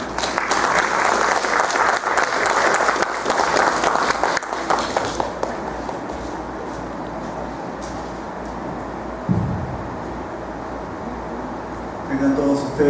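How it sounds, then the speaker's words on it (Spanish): Audience applause welcoming a regional council dean at a diabetes awareness event, loud and dense at first, then fading to a low murmur with scattered claps over the remaining seconds. "a quien recibimos con un fuerte aplauso"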